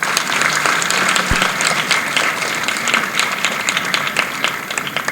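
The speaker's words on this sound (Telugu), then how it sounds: "ఒక్కసారి హుషారుగా చప్పట్లు కొట్టండి అందరూ" A large group of children at a girls' welfare event claps enthusiastically, producing loud, dense, sustained applause that continues evenly from start to finish.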